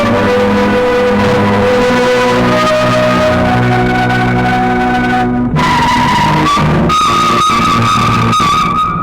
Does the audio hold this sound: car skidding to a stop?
yes